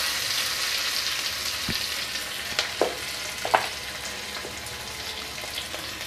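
Chopped onion stirred and fried in a pan for a ridge gourd dish, an even hiss of oil with a handful of scattered spatula scrapes and knocks, no talking.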